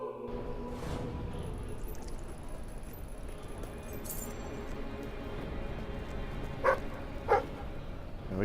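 A dog in a video game gives two short barks near the end, heard over a steady background hum of game sound.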